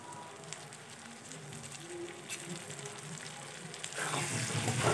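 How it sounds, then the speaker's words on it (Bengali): Spices and goat fat sautéing in a pan, a soft steady sizzle with faint crackles that swells into louder, brighter frying in the last second, close with no talking. "কষানো হয়ে গেলে ওর মধ্যে এবার আমি খাসি মাংসের চর্বিটা দিয়ে দেব।"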